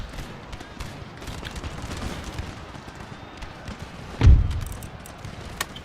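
Infantry firing a musket volley on a battlefield in Empire: Total War, one loud ragged crack of massed shots rising out of a steady background of rumbling battle noise and scattered distant pops.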